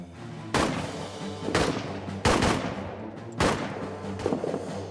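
Gunfire in the trench warfare game All Quiet In Trenches: four sharp, loud shots at irregular intervals, each with a booming decay, over a low rumbling background.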